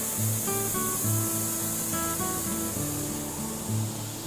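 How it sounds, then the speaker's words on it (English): Waterfalls spilling into a small lagoon on a regenerative farm in New Zealand make a steady, broad rushing hiss that runs the whole time beneath louder background music. "these waterfalls and this little lagoon looks quite nice"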